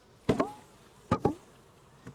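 A package of honey bees is tapped down against a surface: three short, sharp thumps, each followed by a brief burst of buzzing close by, with quiet pauses between them.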